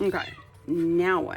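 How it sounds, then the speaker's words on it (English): A house cat meows twice, close and fairly loud, with a person speaking briefly over the sound. "That was my cat."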